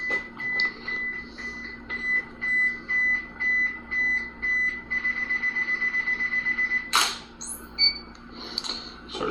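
Camera self-timer beeping during a studio lighting session with one strobe, a steady run of short repeated beeps that quickens into rapid pulses before the shutter fires, fairly close and alone with no talk.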